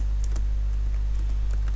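Sparse keystrokes on a computer keyboard, a handful of light clicks spread unevenly over a steady low electrical hum, close and fairly quiet, with no voices.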